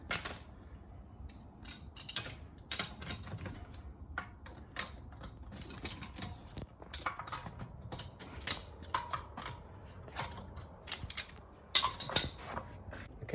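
Socket wrench ratcheting and clicking as 19 mm wheel nuts are undone on a Polestar 2, a dense run of sharp metallic clicks and rattles, close by and fairly quiet, with no talk.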